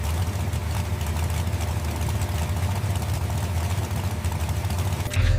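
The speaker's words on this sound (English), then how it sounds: "The engine awakens for the first time, systems coming alive in controlled anticipation" Bugatti Chiron engine running for the first time, a steady dense low rumble that holds at constant loudness throughout and swells slightly at the very end.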